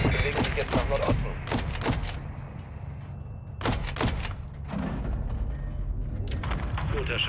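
Gunfire in the 2022 Call of Duty: Modern Warfare 2: a run of loud, punchy shots and booming impacts in quick bursts, with a short lull before more firing and a voice talking over the battle.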